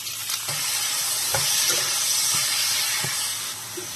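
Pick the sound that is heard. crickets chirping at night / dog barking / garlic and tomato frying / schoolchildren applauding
garlic and tomato frying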